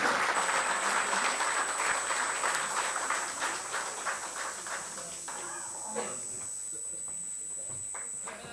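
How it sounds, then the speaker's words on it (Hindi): Loud, dense applause from an audience at a digital media awards ceremony, strongest at first and easing slightly while it carries on steadily, with a thin steady tone running beneath. "मैं चाहूँगी कि एक बार ज़ोरदार तालियाँ अफरीदा जी के लिए बजा दी जाएँ।"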